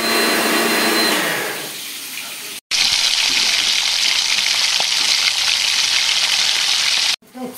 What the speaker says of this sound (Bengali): জামাইয়ের জন্য এখন দিদা রান্না করছে খাসির মাংস।